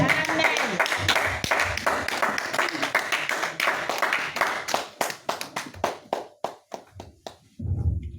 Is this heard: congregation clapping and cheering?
yes